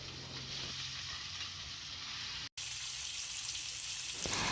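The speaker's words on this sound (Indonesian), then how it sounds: "Dan ini kita tumis bumbunya, bumbu kuning untuk si acar bontengnya ya, acar timun." Yellow spice paste for Indonesian cucumber pickle (acar timun) sautéing in a pan, a steady broadband sizzle that continues throughout, with a brief dropout partway through and no talking.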